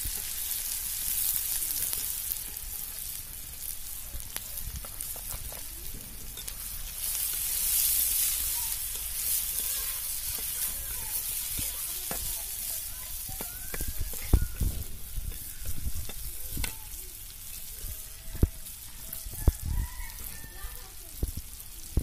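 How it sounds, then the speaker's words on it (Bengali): Onions frying in hot oil for a village-style fish curry give a steady, close sizzle, with occasional sharper crackles and stirring clinks in the second half. "পেঁয়াজগুলো সুন্দরভাবে ভেজে নিতে হবে।"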